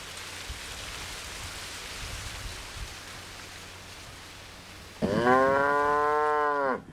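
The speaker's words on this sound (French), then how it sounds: "Et bien là, aujourd'hui, nous avons aussi cette vache." A cow in a Creole garden in Guadeloupe lets out one long, loud, close moo near the end, after several seconds of steady rain-like background hiss.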